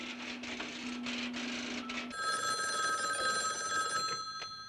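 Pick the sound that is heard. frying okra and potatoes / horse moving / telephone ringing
telephone ringing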